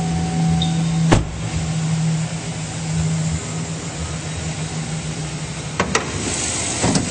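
A 2008 Chevrolet Silverado 1500 LT 4WD crew cab pickup runs smoothly with a steady, even engine hum, broken by a couple of sharp clicks or knocks partway through.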